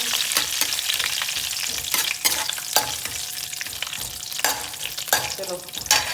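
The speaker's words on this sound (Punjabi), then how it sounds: "ਇਹ ਕੋਪਾ ਥੋੜਾ ਜਿਹਾ ਸਖਤ ਹੁੰਦਾ ਨਾ ਇਹਨੂੰ ਨਾ ਆਪਾਂ ਇੱਕ ਦੋ ਮਿੰਟ ਐਸ ਤਰ੍ਹਾਂ ਚੰਗੀ ਤਰ੍ਹਾਂ ਭੁੰਨ ਲੂਗੇ" Cloves and dried coconut roast in a pan with a steady dry sizzle, broken by repeated scraping stirs of a spatula, close and continuous throughout.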